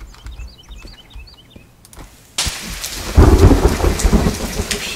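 Rain and thunder in the survival game The Forest: a quiet patch with light ticks gives way to a sudden wash of heavy rain, then a deep rolling thunder rumble swells up loud beneath the downpour.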